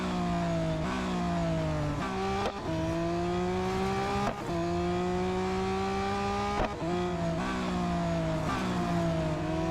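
Race cars in the mobile racing game Real Racing 3 scream past while overtaking back markers, engines climbing through repeated upshifts with sharp pitch drops between gears, loud and continuous with no talk.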